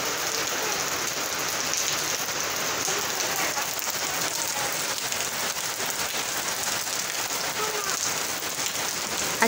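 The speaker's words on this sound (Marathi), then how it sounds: "बघा कसे पाऊस खेळत आहे तो" Evening rain pours down in a loud, steady wash of drops on surfaces, continuous and close with no pauses or voices.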